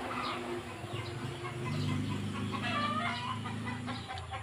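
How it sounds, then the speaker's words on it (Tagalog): Chickens cluck and fowl call continuously at a steel matting fence fabrication site, fairly close and prominent, layered in overlapping bursts without any talking. "dahil maraming mga manok dito"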